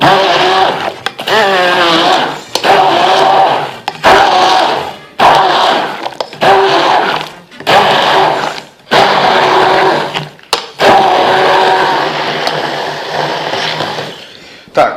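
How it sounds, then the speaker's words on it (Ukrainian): A loud blender chopping tomatoes runs in repeated bursts, whirring and roaring with short pauses between pulses, close by and without speech. "Блендером. Подрібнюємо."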